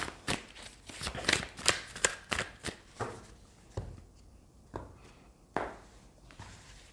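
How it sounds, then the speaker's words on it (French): Rider-Waite tarot cards being shuffled and drawn, a rapid run of crisp close riffles and snaps that slows into a few separate flicks and placements, with quiet gaps and no speech. "On va prendre 3 cartes du tarot Rider-Waite."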